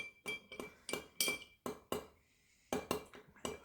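An Old Fashioned made with Peerless rye and Log Cabin maple syrup is stirred in a glass, giving a quick run of sharp clinks and taps at an uneven rhythm with a short pause midway, close but quiet, with no talking.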